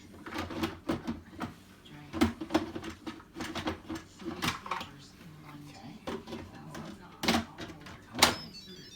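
Clicking and clattering from the lever of an Instant Pot as it is fitted and moved, a series of irregular knocks and taps close by, with a person talking over them.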